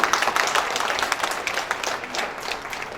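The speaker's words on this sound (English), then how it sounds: "A big round of applause for each one of you." An audience at an ONDC-MSME B2B business meet claps continuously, a busy, fairly close patter of many hands holding steady throughout with no speech over it.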